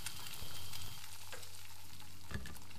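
Bacon fries in a pan with a steady, dense crackling sizzle that fills the whole stretch, with a few louder pops and spatters and no talking.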